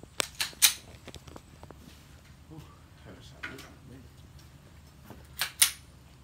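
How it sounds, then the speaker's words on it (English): Sharp gunshot cracks are fired at a fake bulletproof vest, with a quick cluster of three at the start and two more near the end. Faint voices and quiet handling noise fill the gap between them. "I wanna shoot that one first"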